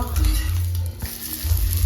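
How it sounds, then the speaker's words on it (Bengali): An egg sizzling and crackling in a hot pan, with occasional scraping from stirring. "ডিম ভাজা"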